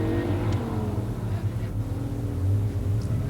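Two muscle cars drag racing, a 1967 Plymouth GTX Hemi convertible and a 1970 Chevelle 454 automatic, give a steady deep engine roar at a strip, heard from a distance with the pitch staying fairly even.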